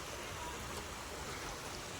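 Steady broadband rushing of water, like a river flowing, continuous and fairly faint with no other sounds.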